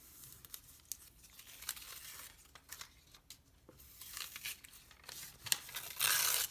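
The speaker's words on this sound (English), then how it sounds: "And removing the last bits of paper." Freezer paper being torn and peeled off a pieced quilt block, with intermittent crisp tearing and crinkling bursts, close and irregular, ending in a louder rustle of paper.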